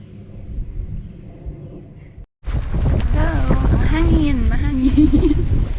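Gusty wind buffets the microphone on the first peak of Mt. Sembrano in the Philippines, a low rumble that swells after a brief dropout while people talk over it.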